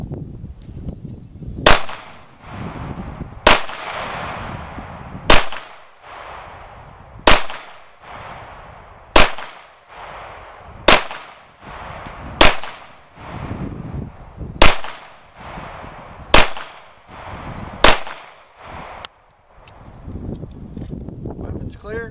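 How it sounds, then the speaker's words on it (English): Ten or so sharp, loud pistol shots from a CZ-75 SP-01 at an outdoor shooting range, fired at a steady roughly two-second rhythm with wind noise and faint background between them. "We both shot 10 rounds through the SP-01"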